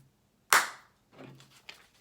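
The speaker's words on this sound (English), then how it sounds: "Clap once." A single sharp hand clap rings out close and loud, followed by a few faint rustles and small knocks.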